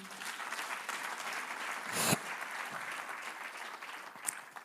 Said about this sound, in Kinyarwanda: Mumpera Imana amashyi